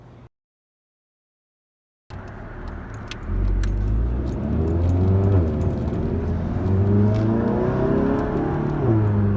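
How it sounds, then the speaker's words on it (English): Volkswagen GTI MK7 with a Stratified DSG tune pulling away on a test drive, the engine and road noise rising steadily after a brief silence, heard from inside the car with rising and falling gear tones. "we're gonna go ahead and take it for a test drive"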